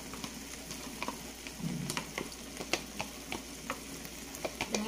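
Diced bell pepper for chicken fajitas sizzles quietly in a hot pan, a soft steady frying hiss broken by small ticking pops and crackles, with a brief stir part way through.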